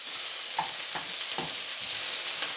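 Peppers fry in oil in a pan for chili con carne, giving a dense, continuous close sizzle with faint stirring taps underneath and no talking.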